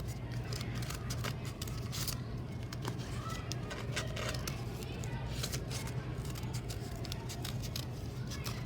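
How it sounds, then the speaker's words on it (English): Scissors snip circles out of folded paper for a children's fruit bowl collage, a steady run of quick crisp cuts and paper rustles close by, low and continuous, with faint voices underneath. "I'm cutting circles out of this folded paper that I created."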